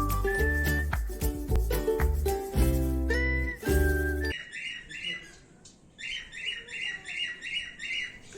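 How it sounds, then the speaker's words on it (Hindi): Birds in Nainital chirp and squawk in repeated, rhythmic bursts, close and clear, after an opening stretch of loud music that cuts off abruptly. "शहरों की शोर भरी जिंदगी में पक्षियों की ऐसी आवाज़ सुनना अब काफ़ी दुर्लभ हो गया है।"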